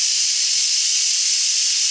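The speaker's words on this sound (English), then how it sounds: "so all the steam is depressurized from the pressure cooker" Steam hissing hard from the release valve of an Imarflex electric pressure cooker, a loud continuous close-up jet that holds steady and unbroken.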